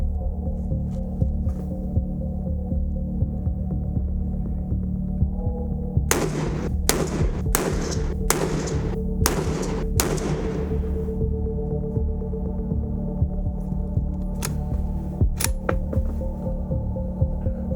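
Precision rifle firing 140 grain ELD Match ammunition: a quick string of about five sharp, cracking shots, then two fainter reports later over a low steady hum.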